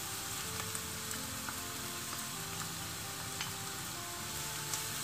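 Onions, then carrots, sizzle in hot oil in a pan as vegetables are sautéed for a vegetable bourek filling: a steady, dense frying crackle with occasional sharper pops and faint stirring, no talking.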